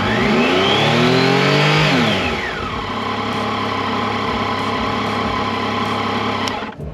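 A 2020 Yamaha Tracer 900 GT motorcycle engine revs up sharply, then falls back to a steady, loud idle that holds until the end, heard up close.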